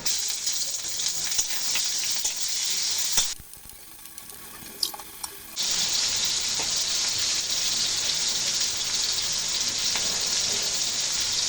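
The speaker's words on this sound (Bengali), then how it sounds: "এই ঝাল পেঁয়াজের মধ্যে এই চিংড়ি মাছগুলো দিয়ে দেব চিংড়ি মাছগুলো দিয়ে কিছুক্ষণ ভেজে নেব" Shrimp fry in spicy onions with a strong, continuous sizzle, which drops away for about two seconds before coming back just as loud and steady.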